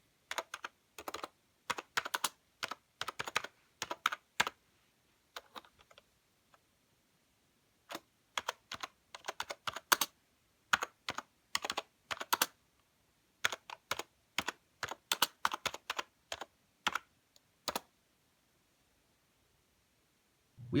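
Brisk bursts of keystrokes on a restored 2000s wireless computer keyboard, close and crisp, typed in irregular runs with short pauses between them and no talking.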